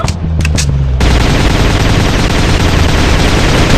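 Video game gunfire: after a brief lead-in, a loud, unbroken automatic burst of rapid shots roars on for several seconds, filling the sound with dense, close fire.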